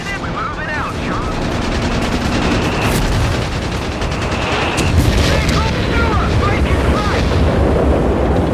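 Dense machine gun fire rattles in the video game Company of Heroes 3, with rapid bursts, booming explosions and battlefield chaos filling the mix continuously throughout.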